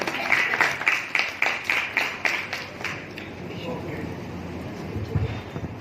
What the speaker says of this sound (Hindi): पर आप सभी देना मुझे तालियों का साथ